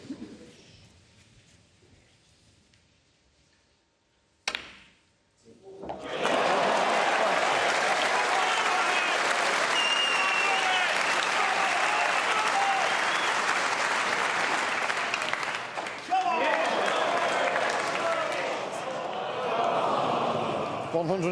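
A snooker crowd at the 2023 UK Championship final bursts into loud, sustained applause and cheering after a brief lull, the clapping dense and continuous for over fifteen seconds with a short dip before swelling again.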